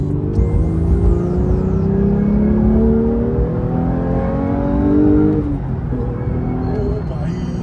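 A Porsche 911 GT3's engine revs and accelerates hard, its loud rising tone climbing through the gears and then dropping back, heard from inside the car, with people talking over it.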